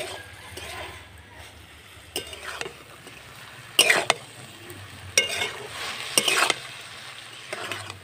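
Cabbage stir-fried in a pan with a steady sizzle and frying hiss, broken by several louder scraping stirs of a utensil against the pan, close and with no voices.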